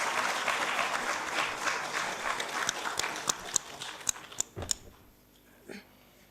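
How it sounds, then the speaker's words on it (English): Applause from a workshop audience on landslide risk, a dense steady patter of many hands that thins into scattered separate claps and fades out toward the end. "May I have a big round of applause?"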